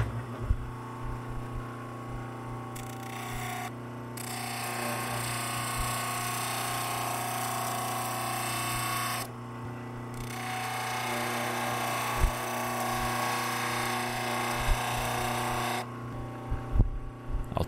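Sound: sanding drum grinding steel bayonet catch

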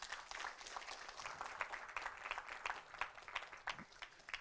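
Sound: audience applause for panelists

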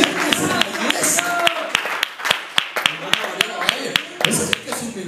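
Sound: congregation applauding in church

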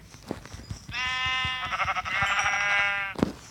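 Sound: sheep bleating in Minecraft video game

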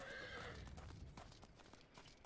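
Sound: horse neighing in the video game Final Fantasy XIV

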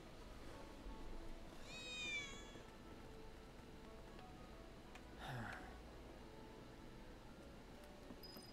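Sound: cat meowing in Final Fantasy 7 Remake video game

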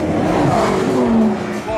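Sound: Lamborghini Huracan engine revving while accelerating

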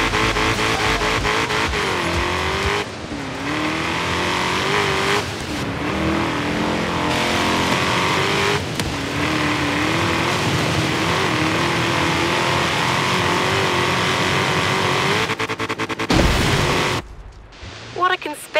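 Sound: car engine driving in video game Forza Horizon 3

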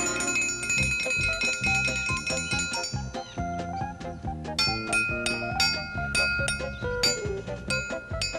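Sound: triangle rung as a dinner bell

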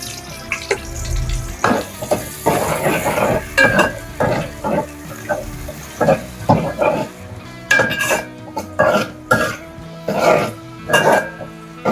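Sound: sliced onions frying with whole spices for pulao

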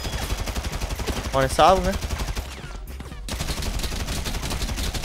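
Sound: gunfire in the video game GTA 5

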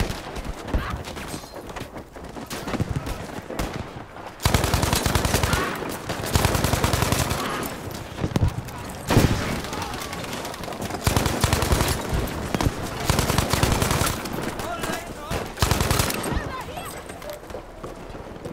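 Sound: gunfire from a support class gun in Battlefield 5 video game

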